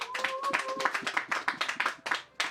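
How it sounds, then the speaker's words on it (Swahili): A church congregation claps in quick, close, rhythmic bursts with some voices mixed in. No distinct ululation stands out above the clapping. "Piga shangwe na vigelegele kwa Yesu."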